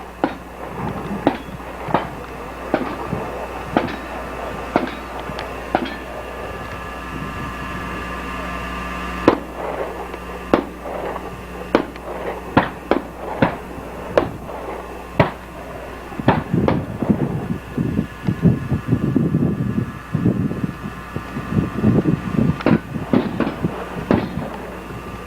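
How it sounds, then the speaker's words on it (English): Machine guns fire at an outdoor shoot in the Nevada desert. Sharp shots crack in scattered bursts, some distant and some closer, then turn into dense rapid volleys near the end. "A lot of people having a lot of fun shooting"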